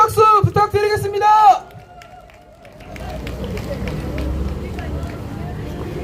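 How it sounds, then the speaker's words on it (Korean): A crowd at a Korean rally for developmental disability rights applauds a lawmaker. A man's amplified announcement comes first, then after a short lull a broad wash of clapping and murmuring rises and holds steady. "우리 다시 한번 남희순 의원님께 큰 박수 부탁드리겠습니다"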